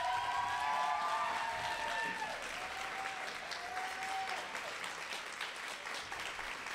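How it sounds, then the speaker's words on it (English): An audience claps warmly for fellows called up at a lecture honouring Breonna Taylor; steady applause runs the whole way, while a few tonal sliding sounds ride over it early on. "We want to give you a round of applause."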